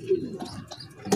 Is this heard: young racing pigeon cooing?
yes